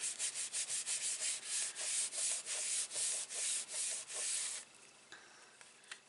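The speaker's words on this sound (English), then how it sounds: "Give that a good rub so your glue adheres down." Firm back-and-forth rubbing across a folded paper card to press the glue flat, about a dozen quick strokes close up, then a few faint taps once it stops.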